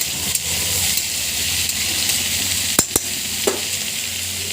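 Spiny gourd and ivy gourd fry in hot oil in a wok with a steady, loud sizzle and a few faint clinks of stirring.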